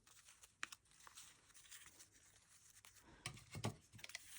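Paper is folded and crumpled into a ruffle for a layered grungy journal topper, a quiet close crinkling and rustling that grows busier toward the end.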